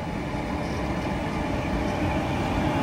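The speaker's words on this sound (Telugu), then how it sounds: "వ్యాప్ 4 లోకోమోటివ్." WAP-4 electric locomotive hauling a special train approaching on an Indian railway line, a steady loud rumble of wheels and rolling stock sustained throughout with no pauses.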